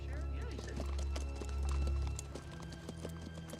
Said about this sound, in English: Yeah, horses. Look at that.